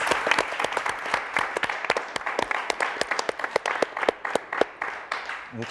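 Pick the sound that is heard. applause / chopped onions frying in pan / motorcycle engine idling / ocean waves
applause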